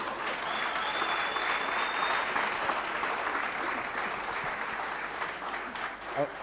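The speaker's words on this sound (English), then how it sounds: "That deserves a round of applause." A studio audience at a charity chat show breaks into steady, even applause that holds at a moderate level for several seconds before easing slightly at the end.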